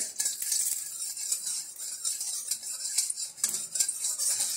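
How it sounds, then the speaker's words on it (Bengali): A spatula scrapes and stirs around a wok with a thin hiss of hot oil, steady rhythmic scraping up close. "খুন্তিতে করে নাড়ছে তেলটাকে চারিদিকে করে"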